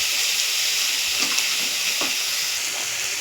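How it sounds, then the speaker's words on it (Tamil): Kuthu egg parotta ingredients frying in a pan with a little salt sprinkled in, giving a steady, soft sizzle and hiss. It runs continuously with faint stirring sounds and no voices. "இது ஃப்ரை ஆகும்போது லைட்டாக உப்பு போட்டோன்னா கொஞ்சம் நல்லா ஃப்ரை ஆகும்"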